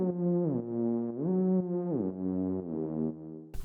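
A sustained afro tech synth lead, treated with chorus and reverb, holds long tones that glide smoothly up and down between pitches, ending with a short bright burst; loud and alone, with no voices.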